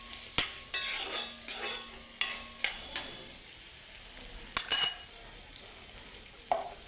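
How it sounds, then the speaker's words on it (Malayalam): Ivy gourd fry with coriander powder being stirred in a pan, heard as a series of close, sharp spoon scrapes and clinks in quick bursts over a low sizzle, then a pause and a few more strokes. "ഇതും കൂടി ചേർത്ത് നമുക്ക് നന്നായിട്ടൊന്ന് ഇളക്കി കൊടുക്കണം."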